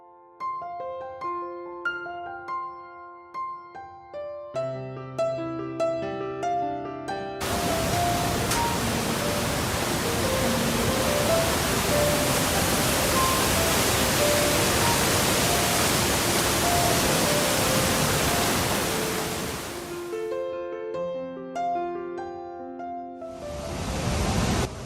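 Iguazu Falls, a complex of 275 waterfalls on the Brazil–Argentina border, as a sudden loud, steady broadband roar of rushing water that sweeps in after soft music and holds for about twelve seconds before music returns.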